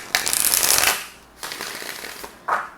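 A deck of tarot cards is shuffled by hand in three quick riffling bursts, close and crisp, with short pauses between them.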